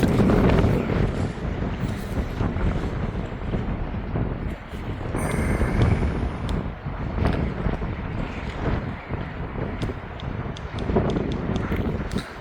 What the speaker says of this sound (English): That's just the wind.